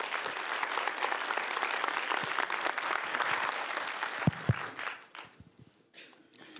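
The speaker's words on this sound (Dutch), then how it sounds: "Geef hem applaus." Audience applause greets a speaker taking the stage at a Dutch conference, a steady dense clapping that swells and then tapers off toward the end, with no talking over it.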